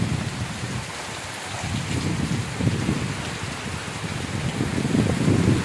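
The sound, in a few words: heavy rain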